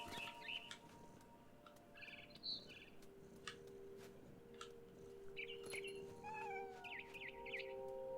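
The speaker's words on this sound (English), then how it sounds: "Look at me, I'm a cat." A cat meowing in the video game What Remains of Edith Finch, several short mewing calls scattered across a steady ambient game soundscape with occasional bird chirps, no talking.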